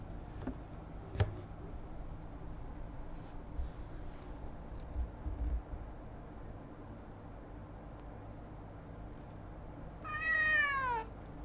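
A single cat meows once near the end, clear and drawn out, after a long quiet stretch with faint background noise and a brief tap.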